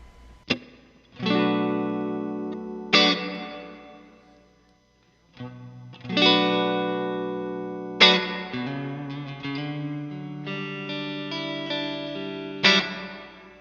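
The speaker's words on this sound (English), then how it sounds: "So this is our 63 reverb." Electric guitar chords and picked notes ring out through a Fender '63-type spring reverb pedal, each strum leaving a long shimmering tail that slowly fades.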